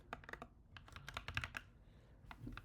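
Rapid clicking on a computer keyboard while writing C++ code, a quiet, irregular burst of keystrokes with short pauses, alone.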